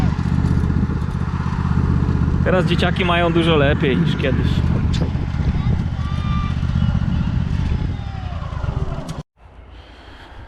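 A young child drives a toy tractor, its steady motor drone running beneath continuous adult talk before cutting out abruptly near the end.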